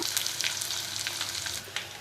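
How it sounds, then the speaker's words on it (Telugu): Tempering spices crackle and sizzle in hot oil with browned onions for Telugu gongura dal, a loud, dense, continuous hiss up close with small spattering pops, no talking. "బ్రౌన్ కలర్ అయిపోయి కదా, అప్పుడు పోపు వేద్దాం"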